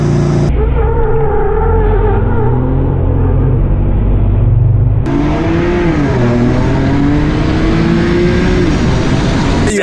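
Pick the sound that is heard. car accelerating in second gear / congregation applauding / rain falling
car accelerating in second gear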